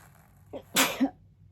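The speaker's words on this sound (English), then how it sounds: "I'm about to sneeze" A single sneeze: a short intake, then a loud explosive burst with a brief trailing vocal tail, close to the mic.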